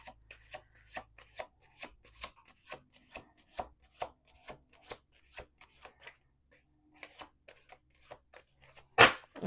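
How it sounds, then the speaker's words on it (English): Tarot cards are shuffled in quick repeated riffles and slaps, close and crisp, pausing briefly before a final louder snap. "Let's do 2 more shuffles."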